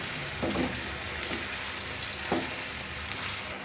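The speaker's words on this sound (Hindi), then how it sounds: "हमने इसको 10 मिनट तक ज़ीरे और प्याज लहसुन के साथ फ्राई करना है" Onions, garlic and cumin fry in a pan for chicken karahi, giving a steady close hiss with light crackle and a few soft stirring scrapes, and no voice over it.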